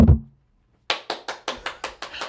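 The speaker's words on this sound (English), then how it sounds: "Supposedly, he's clapping with his bad hand." An NFL player clapping with an injured hand in a locker room after a game: a soft thump, a short silence, then about seven quick, evenly spaced, close hand claps.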